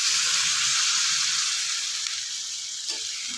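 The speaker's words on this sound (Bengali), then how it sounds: "এখন আমি এর মধ্যে সবজিগুলো ভালোভাবে সেদ্ধ হওয়ার জন্য জল দিয়ে দিচ্ছি" A pan of mixed vegetables for a vegetarian curry hisses as water hits them, a continuous close sizzle and steamy hiss that slowly softens, with faint stirring and no voices.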